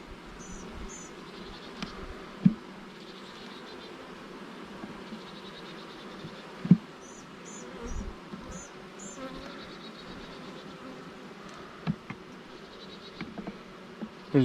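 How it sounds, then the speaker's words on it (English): Honey bees buzz in a dense, continuous drone around an open hive during an inspection, with occasional louder passes of individual bees close by and faint handling knocks. "There's a lot of bees on the wall here"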